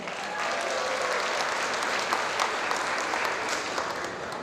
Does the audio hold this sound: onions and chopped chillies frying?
no